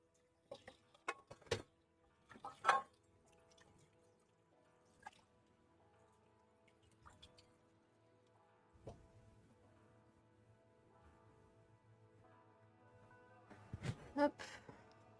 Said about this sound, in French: Je vais les rincer.